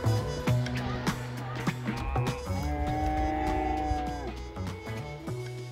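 Cows moo repeatedly in a mountain valley, long tonal calls near and far that overlap and answer each other across the open space.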